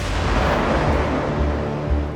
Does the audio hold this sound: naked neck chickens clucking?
no